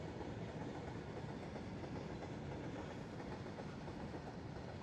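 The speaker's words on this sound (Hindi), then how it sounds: "ये देखो कितनी बढ़िया लग रही है इंडियन रेलवे।" An Indian Railways debris-loading train rolls past a level crossing, a steady rumbling roll with rhythmic clickety-clack from the wagons, moderately distant and unbroken.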